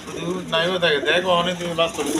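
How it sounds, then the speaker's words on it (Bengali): High-flying Giribaz pigeons coo in a steady, close series of soft warbling calls, repeating through the whole stretch with brief pauses between bursts. "সব হাই ফ্লাইং গিরিবাস কবুতর"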